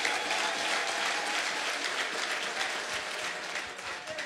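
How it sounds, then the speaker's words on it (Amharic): A church congregation at a prophetic worship service claps together in a loud, sustained burst of applause that holds for several seconds, a full room of hands with no speech on top. "ለጌታ ክብር እስቲ አጨብጭቡ ባካችሁ።"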